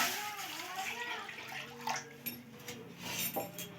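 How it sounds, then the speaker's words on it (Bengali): Water poured into a wok on the stove for boiling five onions in a home kitchen, a continuous splashing rush that runs throughout at low volume, with someone talking over it and a few light clinks. "কড়াই বসিয়ে দিয়েছি, দিয়ে দেব জল"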